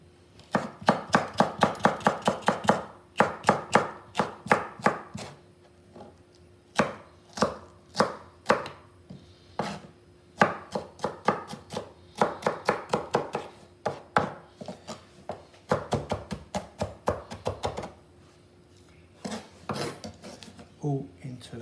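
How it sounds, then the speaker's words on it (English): Red capsicum is chopped finely on a board with a knife, a long run of quick, crisp, rhythmic chops in bursts with short pauses, close and clear, with no talking. "I'm going to chop this up fine."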